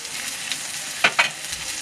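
Tomato with coriander, cumin and Kashmiri chilli powder fries in a pan for a Bengali crab curry, giving a steady close sizzle with two short scraping stirs near the end.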